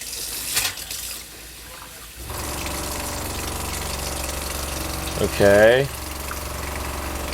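A Seaflo diaphragm pump on an RV water system kicks on and hums steadily as a faucet is opened to purge air, joined by a brief sputtering gush near the end; someone speaks briefly at the start.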